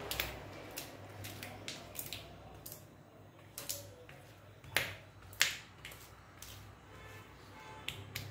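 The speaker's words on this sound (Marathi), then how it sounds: "आता या पद्धतीने सर्व या फोडून झालेल्या आहेत।" Boiled groundnut pods are cracked open by hand, giving a close series of sharp snaps and squishy crunches scattered irregularly, with two louder cracks near the middle and no talking.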